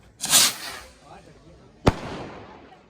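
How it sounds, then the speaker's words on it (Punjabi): Two fireworks bursts at a wedding celebration in Punjab: a loud crackling blast at the start, then a sharp bang a second and a half later, with a voice talking faintly between. "ਭਰਾ ਦੇ ਵਿਆਹ ਦੀ ਖੁਸ਼ੀ ਦੇ ਵਿੱਚ ਆਤਿਸ਼ਬਾਜ਼ੀ ਚੱਲਦੀ ਹੋਈ"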